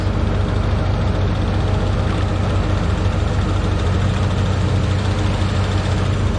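A Chevrolet Corvette engine idles steadily and loudly up close, a constant low rumbling drone with no change in pace and no voices.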